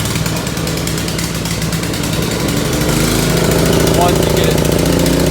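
A small engine cold-started with the choke on runs loud and steady at close range, a rough continuous drone with someone talking over it.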